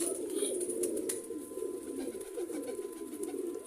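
A continuous low, throaty cooing comes from Sialkoti pigeons, a pearl-eyed cock among them with its hen, over a faint hiss and occasional light rustles.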